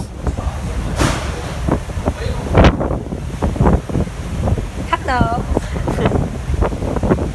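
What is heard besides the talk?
wind on a ferry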